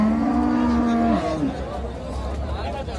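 A dairy cow at the Karungalpalayam cattle market in Erode gives one long, loud moo that falls off at the end, followed by market chatter and crowd murmur.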